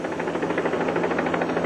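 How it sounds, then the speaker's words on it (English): A CHP rescue helicopter arriving at a roadside accident scene: a steady, loud rotor thump with fast pulsing chop over a constant engine drone, close and unbroken. "The CHP helicopter arrived at the scene within minutes."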